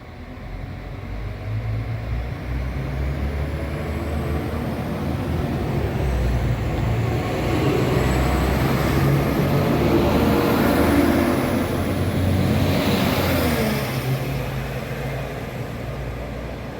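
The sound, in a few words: Northern train 195101 departing Crossgates station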